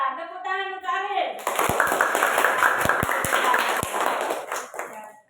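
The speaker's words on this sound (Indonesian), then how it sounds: "Tepuk tangan untuk Arif" Children clapping for a classmate in a school classroom: a dense burst of hand claps with a few sharp individual claps starts after a short stretch of speech and continues for about four seconds before fading.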